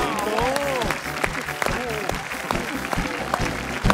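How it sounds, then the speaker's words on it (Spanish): A studio audience on a talk show claps in scattered bursts while a host talks loudly in Spanish over the applause, with cheering mixed in. "Gente que más aplauda."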